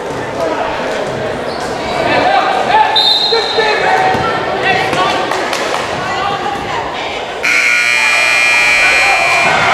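A loud game-ending buzzer at a varsity boys high school basketball game blares and holds steadily over a roaring crowd and voices near the end, as a three-point shot misses.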